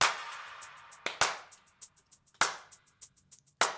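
A big clap sample in a music track mixed with shaker and lighter claps: sharp, loud clap hits roughly every 1.2 seconds with quick rhythmic shaker ticks between them.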